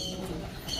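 Racing pigeons coo softly after returning from a rainy training flight in Tayug, Pangasinan, a couple of low, brief murmuring calls close by against a quiet background.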